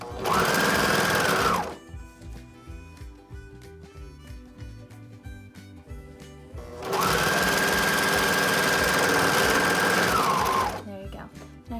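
A sewing machine stitches elastic into the seam of a pleated fabric mask, loud close motor whirring in two long runs separated by a quieter pause, with background music playing.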